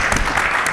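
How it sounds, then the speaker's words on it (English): Audience applause at a panel discussion on Arctic climate and national security, a brief burst of steady clapping filling the room. "Hand of applause, please."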